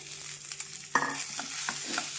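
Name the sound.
mixing mashed potatoes with spices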